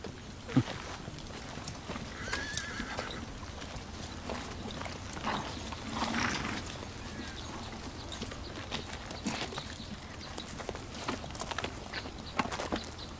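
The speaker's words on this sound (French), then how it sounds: "j'ai de très beaux chevaux russes" Russian horses walking with steady, moderately close hoof clip-clops over a continuous outdoor background, with no clear neighing.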